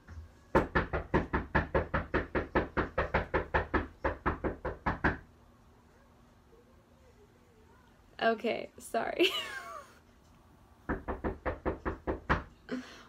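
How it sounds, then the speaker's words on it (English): Someone knocks on a door in a long run of rapid, evenly spaced raps, then a voice speaks briefly before the knocking starts again. "We're going to ignore the knocking on the door."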